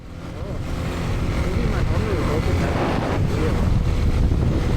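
Wind roars and buffets steadily against a helmet-mounted camera on a motorcycle ride outside Toronto, a loud, constant rushing that swells slightly toward the end, with muffled engine rumble beneath.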